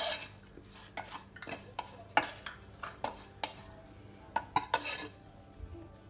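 Ivy gourd fried with asafoetida, turmeric, chili powder and salt being stirred in a pan: a run of sharp, uneven utensil scrapes and clinks against metal over a faint sizzle, close and alone.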